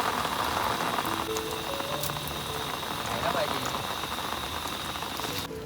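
Monsoon rain falls outdoors near Kondeshwar Temple in Badlapur, a close, even hiss of drops on surfaces, while a voice speaks briefly over it.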